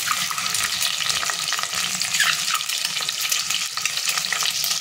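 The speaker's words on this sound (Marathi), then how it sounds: "त्याच्यामध्ये मी अंडी ठेवणार आहे, ते आपल्याला थोडे फ्राय करून घ्यायचे" Eggs fry in hot oil in a pot with a loud, constant crackling sizzle and occasional stirring, no voices.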